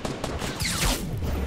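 Rapid gunfire in Fortnite Battle Royale, a dense burst of close, loud shots cracking one after another with no pause.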